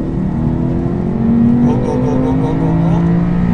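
A car accelerates at full throttle through a cone course, its engine a loud, close, steady drone whose pitch climbs smoothly.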